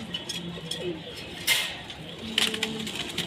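Pigeons in a loft give soft, low cooing that runs faintly through the clip, with a couple of brief rustling bursts and light clicks nearby.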